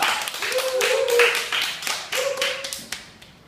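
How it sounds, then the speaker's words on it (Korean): A small class gives scattered, uneven hand claps in a few sharp bursts, while a voice talks over them. "큰 박수 부탁드리겠습니다"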